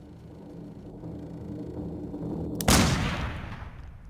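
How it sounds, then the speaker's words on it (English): A single loud gunshot cracks sharply after a stretch of low background rumble, its report ringing and decaying over the next second and a half. "Is it a gunshot? Yes."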